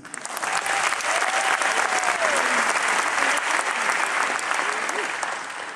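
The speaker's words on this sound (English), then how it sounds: "give him a round of applause" Loud, sustained audience applause for a music director at a live concert in a large concert hall, thick continuous clapping with faint cheers and a brief voice rising through it.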